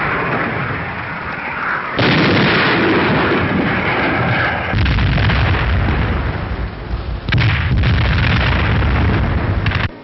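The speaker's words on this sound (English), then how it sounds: "And now the field guns go into action to clean out that airfield." Field guns fire artillery shells near an airfield, with British troops at Salerno in a wartime newsreel. Heavy, booming blasts and sustained rumbling come through a narrow, dated recording, with several distinct bursts.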